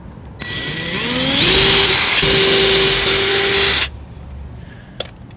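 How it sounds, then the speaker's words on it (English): A power drill pre-drilling a hole whirs up loudly for a few seconds, its pitch climbing then holding steady before cutting off, followed by quiet. "So I'm going to pre-drill"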